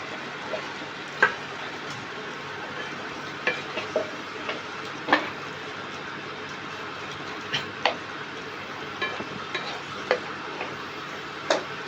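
Hilsa fish heads and bones simmering in a pan with kagbot greens, giving a steady soft sizzle broken by scattered clicks and scrapes of stirring, close and fairly quiet with no voices.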